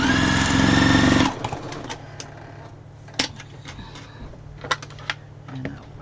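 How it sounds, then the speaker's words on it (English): A sewing machine stitches quilt fabric made from scraps in a short, loud, rapid whirring burst, then stops, leaving a few faint clicks and small handling taps. "I'll just sew it again"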